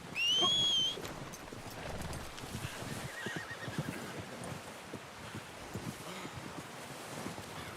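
In the video game Red Dead Redemption 2, a horse whinnies loudly once at the start, then hooves and rustling movement continue over a steady outdoor wind-like background.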